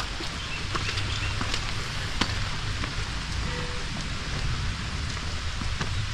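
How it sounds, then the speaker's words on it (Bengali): Light rain falls outside a hotel as a steady, even hiss of drops on surfaces, with scattered sharper patters, moderately close and unbroken for the whole stretch, with no talk. "বৃষ্টি অতটা হচ্ছে না, গায়ে অতটা লাগছে না যদিও।"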